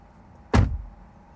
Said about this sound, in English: you can pull the door handle and it will manually open your door